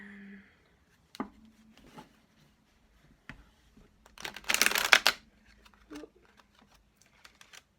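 Tarot deck being shuffled by hand, a soft riffling burst of card noise in the middle with a few scattered taps and flicks before and after, close and fairly quiet.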